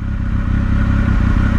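A Triumph Speed Triple RS motorcycle engine drones loudly and evenly while the bike is ridden, up close, with wind noise and no speech.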